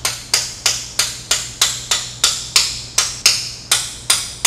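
A brass hammer strikes an aircraft engine part during a crankshaft build-up in a steady rhythm, about a dozen sharp, ringing blows evenly spaced, close and loud.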